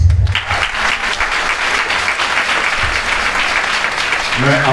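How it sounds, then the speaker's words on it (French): A crowd applauds steadily, a dense wash of clapping sustained throughout, with a brief voice at the start and end. "Je voudrais qu'on s'applaudisse."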